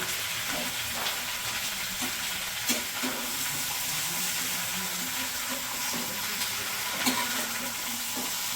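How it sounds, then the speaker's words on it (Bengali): Tomatoes frying in hot oil in a village kitchen give a steady close sizzle and crackle, with occasional pops and stirring clinks over a constant hissy bed. "তেলের মধ্যে টমেটো দিয়ে দিই"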